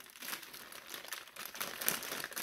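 Plastic packing bag holding a GT35 turbocharger crinkles and rustles as it is handled up close, a soft, continuous crackle with no talking.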